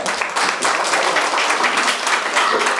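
A seated audience claps together at a gold company's 100-day celebration, producing dense, sustained applause that stays loud and even throughout.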